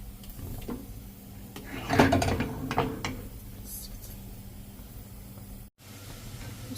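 A gas stove burner is lit, its igniter giving a short cluster of sharp mechanical clicks up close against a quiet kitchen background, with no talking.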